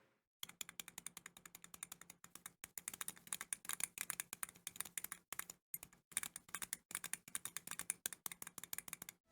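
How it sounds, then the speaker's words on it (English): Arcade stick buttons fitted with Cherry switches are pressed one after another: sharp plastic clicks in quick bursts and steady runs, close and alone, with two sets of buttons heard in turn and a brief pause between them. "Let's take a listen to the old buttons. And now the new buttons."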